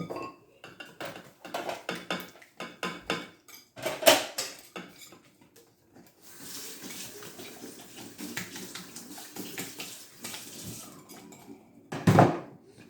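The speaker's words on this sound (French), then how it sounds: "On mélange. On fouette." A whisk beats a mixture in a bowl in irregular bursts of clinking and scraping, close by, broken by pauses and a stretch of softer hissy rattling.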